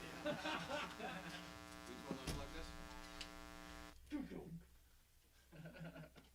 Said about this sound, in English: Something started buzzing.